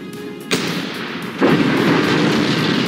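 Railgun firing in the video game Forts: a loud booming shot at about half a second, then a second heavier blast near one and a half seconds that leaves a sustained roaring rumble, with no talk.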